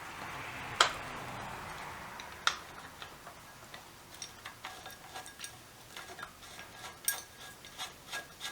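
A nut tightened on a BSA 350 motorcycle: a rasping tool stroke, then a run of sharp, close clicks and ticks at an uneven rhythm, with no talking.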